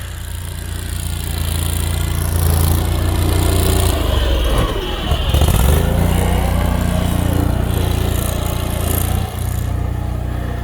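Tracked Argo Aurora 8x8 ATV driving through a snowy field, a loud, steady mid-pitched engine drone with track rumble, close by and continuous, with a brief dip and surge partway through.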